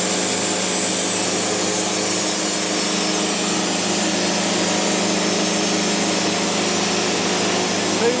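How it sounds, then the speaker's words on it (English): A saw fitted with a silver tip blade cuts through poplar wood, giving a steady, loud, continuous whine and rasp that holds without a break from start to finish. "that silver tip blade just goes through poplar like nothing."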